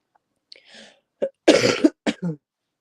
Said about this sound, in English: I don't know if anyone just heard hubby coughing then.